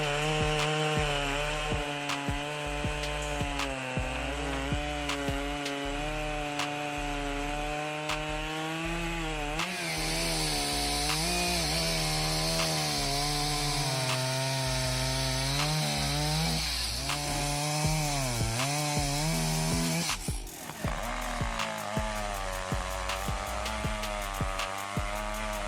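A chainsaw cuts through wood while building a wooden house, its engine running continuously and loud for the whole stretch, with the pitch rising and falling as the chain bites into the timber.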